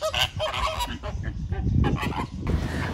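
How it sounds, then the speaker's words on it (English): A flock of Chilean flamingos at the Indianapolis Zoo honks in a loud, overlapping goose-like chorus, calls coming thick and near for the whole stretch with no talk. "And behind me, you actually see our flock of flamingos here."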